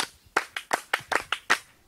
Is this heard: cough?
no